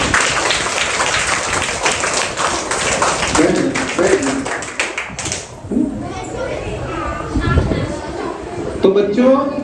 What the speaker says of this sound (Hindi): और जोरदार तालियां अपने लिए बजाओ।